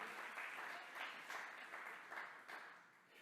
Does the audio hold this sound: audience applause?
yes